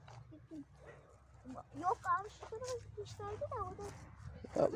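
Several dogs at an animal shelter bark, yip and whimper in quick irregular bursts at moderate distance, overlapping each other in an excited chorus.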